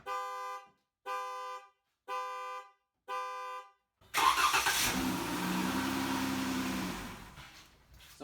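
A 2008–2016 Chrysler Town and Country's key fob or door chime sounds four evenly spaced electronic tones, and then the engine cranks and catches with a loud start before settling into a steady mid-pitched idle, all without talk.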